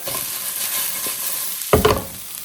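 Potatoes crisping in a pan with a steady bright sizzle, interrupted by a thump and rattling clatter as they are tossed and flipped, no speech.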